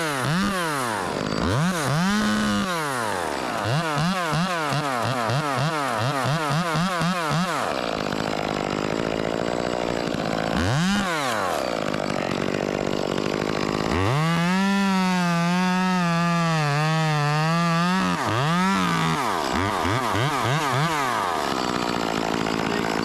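A chainsaw cutting into a tall hemlock tree, the engine revving up and down repeatedly in pitch sweeps, then holding a sustained high whine under load before more rapid revs, loud and close throughout.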